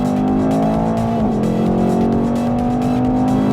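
A 2018 Mercedes-Benz E63 AMG powering out of a track corner at full throttle, its engine note loud and close, droning steadily with a brief dip in pitch before climbing again, tires faintly squealing.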